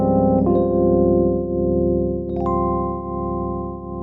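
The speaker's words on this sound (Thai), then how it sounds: "อันนี้เป็นเสียง EP Mark 1 กับ Tremolo" A Studiologic Numa Compact SE plays its Mark 1 electric piano sound with tremolo, sustaining warm chords that pulse steadily in volume, with two clear chord changes, loud and close, alone.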